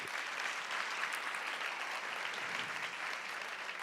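A church congregation claps for God during a sermon, giving steady, even applause that stays fairly soft and distant for the whole stretch.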